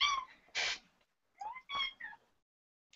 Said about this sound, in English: Oh, my crazy cat is coming.